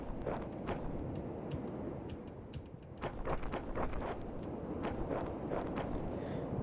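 Footsteps in the Among Us video game with clicky popping artifacts, a rapid patter of crisp clicks and ticks over a steady background wash, picking up in density midway through.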